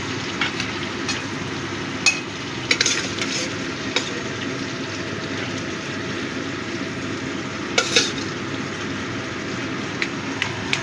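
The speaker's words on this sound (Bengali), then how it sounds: "আর মাছগুলো ভেজে নিচ্ছি।" Prawns frying in hot oil in a pan, giving a steady, close sizzling hiss with scattered sharp crackles and pops throughout, no voices.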